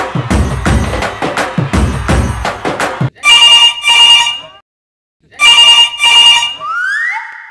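A telephone rings in two loud, bursting double rings separated by a pause, following a stretch of lively background noise and chatter, then a brief rising electronic tone at the end.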